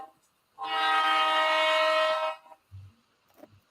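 A model train locomotive horn plays through onboard speakers, one loud sustained blast lasting about two seconds, followed by a few faint low thumps.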